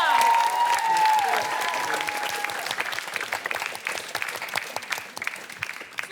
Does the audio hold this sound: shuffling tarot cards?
no